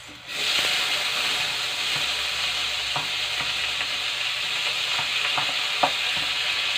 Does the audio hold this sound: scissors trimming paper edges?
no